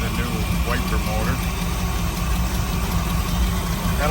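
A 1978 Chevrolet K10 with headers, an Edelbrock intake and an Edelbrock carburetor idles steadily with a smooth, even rumble while someone talks over it.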